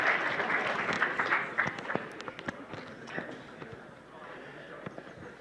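Applause from an audience at a hackathon kickoff event, a dense patter of claps that fades somewhat toward the end, moderately loud and without talk over it.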